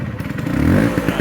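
A 1979 Vespa P200E scooter engine idles unevenly with a carburetion fault that keeps it stalling, giving a low rattling, throbbing putter close up with no talk.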